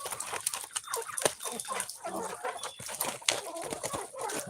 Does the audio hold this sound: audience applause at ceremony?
no